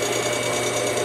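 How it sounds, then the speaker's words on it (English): Bandsaws cut metal in a solar-powered steel fabrication shop, giving a steady, loud mechanical whir with a fast, even buzzing pulse and no break. "I got my bandsaws over here cutting metal"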